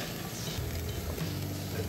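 Ground meat for bolognese steams and sizzles in a hot pan as its water cooks out, giving a continuous close crackling hiss with no talk over it.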